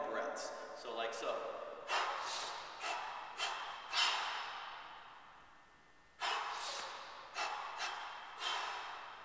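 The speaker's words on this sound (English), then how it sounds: "Okay, so I've taken two breathing cycles overhead." Forceful breaths during a kettlebell jerk, held in overhead lockout and fixation: a series of sharp, close exhales and inhales in a steady rhythm, about eight bursts with a brief pause midway.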